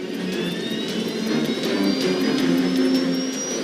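Jet engines of American Airlines flight 1572 spooling up during a go-around in a storm, a loud steady roar with a rising whine, continuous and without speech.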